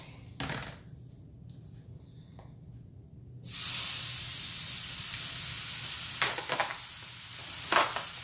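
Lean ground beef, 85% lean and 15% fat, drops into a home skillet and a loud, steady sizzle breaks out about midway, holding bright and continuous with occasional stirring scrapes.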